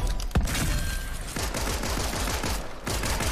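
Loud bursts of rapid gunfire crackle from weapons in Fortnite, a dense rattling volley at the start followed by further shots in quick succession with no voices.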